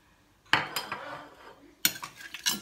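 Utensils scrape and clink against a bowl while a sardine ball mixture seasoned with ginger, black pepper, bell pepper, hot chili and salt is stirred, in two close bursts separated by a quieter stretch.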